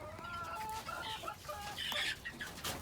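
Chickens in a backyard coop, with a rooster penned in among them, cluck and chatter in a steady run of short calls at moderate distance, with no talk.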